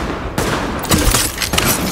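Gunfire erupts in Tom Clancy's The Division. Rapid, loud bursts and sharp cracks pile up into a dense fusillade with no pauses, close and harsh throughout.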